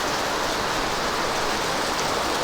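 Heavy typhoon rain pours down in a steady, dense hiss that stays even and fairly loud throughout, with no voices.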